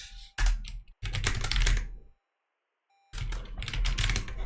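Rapid typing on a computer keyboard during code-modding for the game Celeste comes in two dense bursts of close clicking, with a quiet pause between them.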